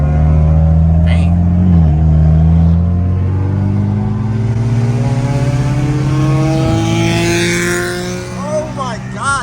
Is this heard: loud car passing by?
yes